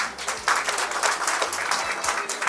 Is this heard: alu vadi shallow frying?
no